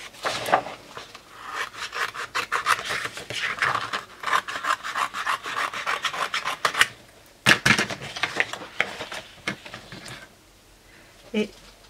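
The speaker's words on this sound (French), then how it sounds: "Je vais découper l'étiquette numéro 2, c'est-à-dire celle qui viendra au centre de mon album." Paper label for a triptych card being cut out: a quiet, irregular run of short snipping and rasping strokes, close and dry, with brief pauses between cuts.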